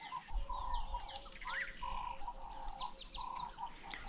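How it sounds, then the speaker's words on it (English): Birds at a small water fountain outside the reception area at Skukuza in Kruger, repeated clear chirps and whistled calls over a faint insect hum. "This little water fountain outside the reception area always has birds enjoying a drink or a bath."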